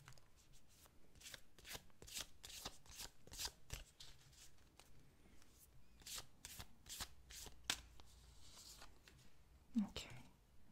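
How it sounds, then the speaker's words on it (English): Tarot cards shuffled and drawn in a quiet room, a steady run of soft riffling and flicking bursts up close, with faint whispery speech between them. "I would like to draw the card that would represent the solution or the resolution."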